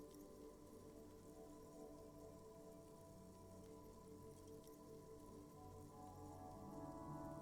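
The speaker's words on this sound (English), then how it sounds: "Her sound melts into the static from a long-distance phone call." A steady, faint hiss of static runs throughout, with low murmuring underneath and no distinct voices.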